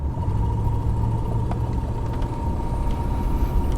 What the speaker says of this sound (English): It's the tiniest little exhaust leak up there somewhere.